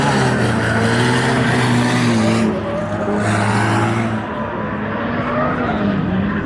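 A drift car spins out at a speedway with a loud, sustained tire squeal and revving engine that shift in pitch, then ease off as the car slides, with a voice faintly underneath.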